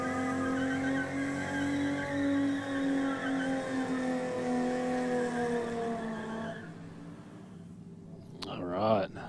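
Race cars at the Aeroflow Race 4 Real drag strip event, including a Ford Falcon, rumble with a loud droning engine note for several seconds. The sound then drops away, and a brief sharp burst follows at the end.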